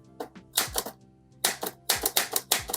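Keys strike on an Underwood 378 typewriter in quick, uneven clusters, each a sharp close clack, with brief pauses between bursts of typing.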